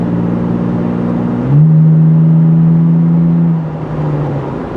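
A 2021 Toyota 4Runner TRD Pro's exhaust gives off a loud, steady, low drone as it accelerates, with the pitch rising slightly and holding before easing off, heard close with no talking.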